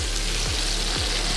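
Chopped tomatoes sizzle and fry steadily in a hot pan while chana masala is cooked, a loud, close, continuous crackle with faint stirring scrapes and no talking.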